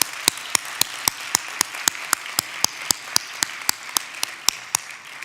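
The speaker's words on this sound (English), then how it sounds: "how about a round of applause for all 6 of our great finalists?" Single steady, evenly spaced hand claps, about three per second, sharp and close over a quiet room, offered as applause for six finalists at the 2023 Do Good Challenge finals.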